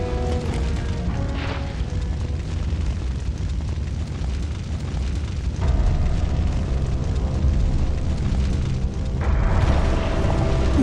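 Rocket launcher blasts in the video game Resident Evil 3: a loud, dense roar of explosions and rumbling game audio fills the whole stretch, swelling in two stages, with no voices.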